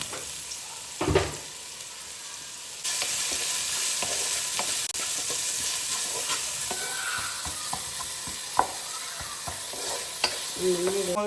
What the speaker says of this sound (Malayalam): ഉള്ളി ഇട്ടൊന്ന് നന്നായിട്ടൊന്ന് വഴറ്റണം